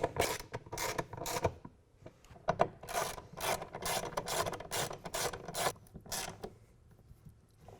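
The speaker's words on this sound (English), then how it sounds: "To tighten these bolts back down, we're going to use a ratchet rather than the impact driver" A hand ratchet tightens the mounting bolts of a Gator tri-fold tonneau cover on a 2016 Toyota Tacoma, giving close, rhythmic bursts of rasping clicks, stroke after stroke, with no talking.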